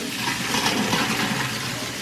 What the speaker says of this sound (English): we're going to strain the noodles in cold water